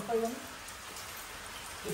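Steady rain hisses softly and continuously, with a faint voice briefly audible underneath.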